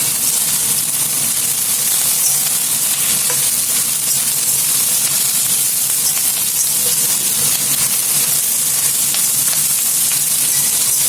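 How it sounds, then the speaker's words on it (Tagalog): Cabbage frying in a pan makes a loud, continuous hissing sizzle, close and unbroken throughout, with no speech. "Na-fry na natin siya ng konti. So, ilagay ko na tong cabbage."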